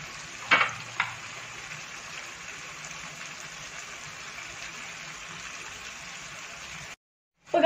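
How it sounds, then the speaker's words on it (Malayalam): Chilli chicken being stirred in a frying pan, a soft continuous sizzle with a couple of sharp utensil clinks near the start, ending in a brief silence and a final knock. "നല്ലോണം ഒന്ന് മിക്സ് ചെയ്ത് കൊടുക്കും."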